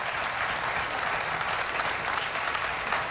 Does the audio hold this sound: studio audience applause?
yes